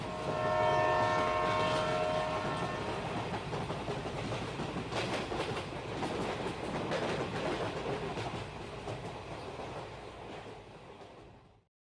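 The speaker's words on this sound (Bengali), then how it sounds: "খানিকক্ষণ পর ট্রেন থামার শব্দ শুনে" A cartoon train slows to a halt at a station with a short horn blast, rolling clatter and rumble filling the scene before fading out at the stop.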